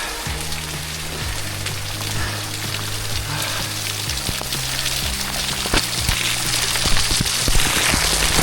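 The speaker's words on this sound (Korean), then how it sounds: "폭포물이 떨어지고 있습니다." Waterfall spray raining down onto trees at the Sacred Waterfall near Meili Snow Mountain in Yunnan, a steady close hiss of drops pattering on leaves and wet ground like heavy rain, with faint low tones beneath.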